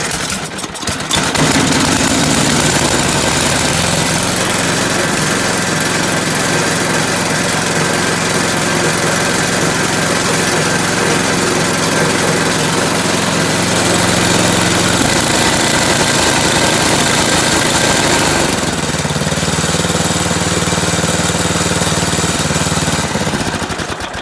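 Snow blower engine, choked and primed, catches on the first pull and settles into a loud, steady small-engine idle that runs continuously, with a brief dip and shift in tone partway through.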